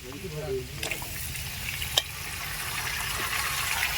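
Pumpkin tipped into potatoes already frying in a pan, a steady sizzle with a stir and a couple of sharp clinks, while someone talks briefly at the start.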